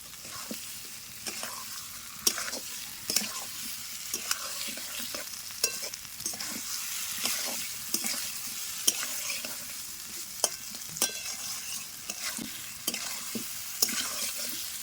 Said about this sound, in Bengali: তো মশলার সঙ্গে ভালো করে সব কষে নিতে হবে